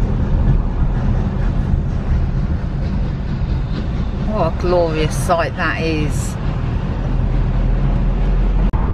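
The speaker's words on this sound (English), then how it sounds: "Steam train literally just crossing the road there." A steam train crosses a road in Devon, heard as a continuous loud low rumble and clatter under someone speaking briefly, with a short burst of other voices in the middle.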